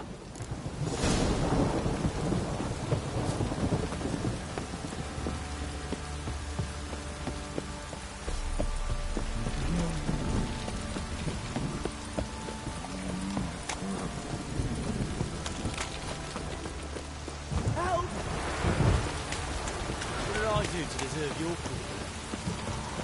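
Thunderstorm with rain in the video game The Witcher 3: Wild Hunt, steady rainfall throughout with deep rolling thunder near the start and again toward the end, under faint background sounds.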